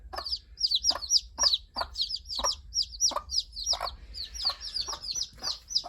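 Chickens cluck and chirp nearby in a busy, continuous chatter of short repeated calls, with a faint low hum underneath.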